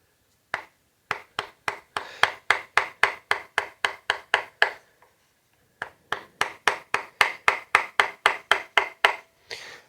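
A Harbor Freight carving gouge cuts wood in rapid, evenly spaced sharp knocks, two long runs of strokes separated by a brief pause, close and crisp.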